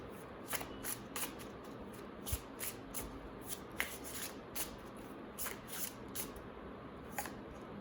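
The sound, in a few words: shuffling tarot cards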